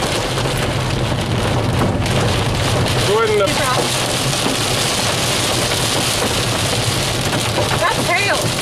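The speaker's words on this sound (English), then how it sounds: "That's hail. that's hail." Hail and heavy rain drum steadily on a moving car during a summer thunderstorm, a dense loud clatter on the roof and windows with road noise underneath and brief voices inside.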